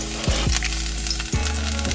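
Garlic hisses in hot olive oil with a loud, steady sizzle close to the microphone, and a few scraping stirs break in over the frying noise.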